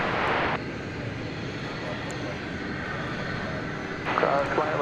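An MD jet airliner taxis at DFW Airport, a steady moderate engine rumble and whine heard from a distance, with a person talking over it at the start and end.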